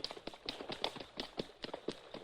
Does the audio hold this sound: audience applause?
no